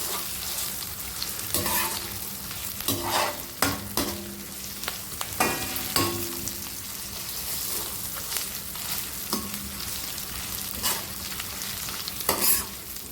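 Ginger garlic paste fries and is stirred in a pan while cooking cauliflower, a steady sizzle broken by repeated scraping clinks of the spoon against the pan, close and alone.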